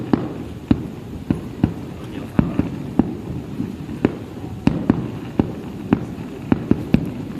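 Fireworks launched at Hồ Văn Quán lake: a steady series of sharp booms and pops, some sounding distant, repeating every half second or so over a low background murmur.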